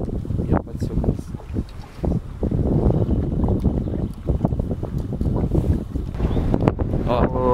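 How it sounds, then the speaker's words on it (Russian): Wind gusts rush across the microphone while fishing for perch from a boat, a steady blustery roar with people talking throughout. "Сдувает ветер."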